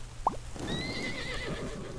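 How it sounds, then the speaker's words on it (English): A horse whinnies in a long wavering call after a brief sharp knock, set over a low steady background hum. "Is that a flying horse?"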